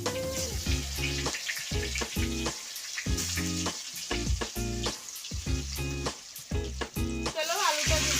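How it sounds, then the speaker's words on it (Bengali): Potatoes sizzle and crackle steadily in hot oil in a pan, a close, continuous fry broken by repeated stirring or shaking of the pan, with no talking. "এবার আমরা আলুটা ভেজে নেব।"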